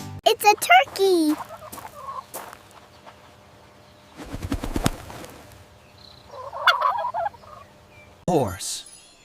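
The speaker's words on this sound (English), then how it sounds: "It's a turkey." A turkey gobbles in several short, rattling bursts separated by pauses, loud and close, with a few softer fowl calls in between.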